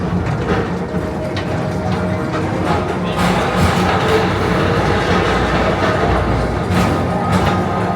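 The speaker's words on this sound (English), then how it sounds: "your express train keeps on rolling through the future" A Tomorrowland People Mover train at Walt Disney World rolls steadily with a continuous rumble and rattling clatter, close and loud, with occasional thumps and no pauses.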